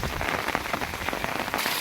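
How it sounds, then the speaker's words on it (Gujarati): Unseasonal rain pours down in Shedhakhai village, Bhanvad taluka, Devbhumi Dwarka, a dense close hiss of drops striking surfaces that stays steady and loud throughout, with no voices. "જો આવો વરસાદ પડ્યો છે"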